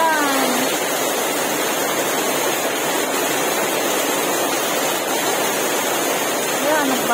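Floodwater rushes across a road in the Philippines, making a loud, constant broadband roar close to the microphone for the whole stretch.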